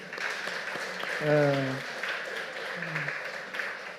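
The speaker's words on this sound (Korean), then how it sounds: "격려하는 박수를 한번 합시다" A church congregation claps in encouragement, producing a moderate, steady patter of applause while a voice speaks over it.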